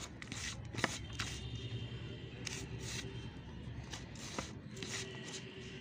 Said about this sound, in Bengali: এগুলোকে প্রথমে আমি মিক্স করে নেব, ভালো করে মিক্স করে নেব।